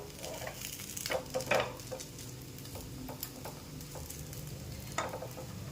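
Rava appe batter frying in an appe pan after the balls are turned, a steady soft sizzle with scattered light ticks and taps of the turning spoon.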